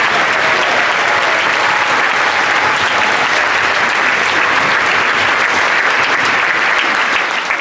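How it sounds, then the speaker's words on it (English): A school orchestra concert audience claps in a hall, a dense, sustained round of applause that stays loud and even throughout. "So let's give them a round of applause for the State."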